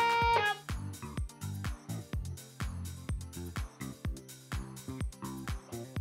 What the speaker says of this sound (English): And if I do put it in my mouth and shape the sound,